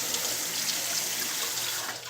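Water drains steadily from a kitchen sink after pasta or beans were rinsed in cool water, a continuous close rushing gurgle with no talking.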